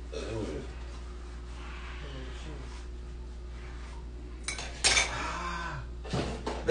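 Dishes and cutlery being washed by hand clink and clatter in a sink, with scattered metallic knocks and a louder burst of clattering near the end, while a voice talks faintly in the background.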